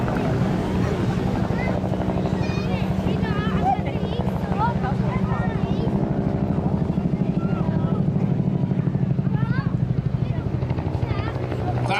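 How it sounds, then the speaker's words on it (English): A Bell UH-1 Huey military helicopter thumps loudly and steadily overhead at an airshow, its rapid rotor beat droning throughout while a voice speaks beneath the noise. "Today, it's the Huey that graces our sky."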